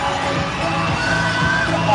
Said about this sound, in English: Grabe na yung pagsigaw at paghiyaw ng ating crowd.